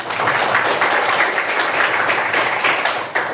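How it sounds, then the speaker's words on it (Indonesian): A high school Indonesian-language class breaks into steady, dense applause that fills the room loudly for several seconds before tapering off at the end. "tepuk tangan untuk kita semua"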